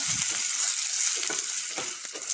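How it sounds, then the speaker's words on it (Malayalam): Idli pieces roast and sizzle in a hot pan with a steady hiss and a few soft stirring scrapes, heard close up with no talking. "ഇനി ഇഡലി നമുക്ക് ഇതിനകത്ത് നിന്നിട്ട് ഒന്ന് റോസ്റ്റ് ചെയ്ത് കൊടുക്കാം"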